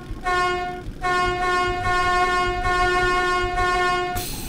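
A loud train horn in the video game Metro 2033 sounds in three long, steady blasts separated by brief gaps, over a constant rumbling rail-car background.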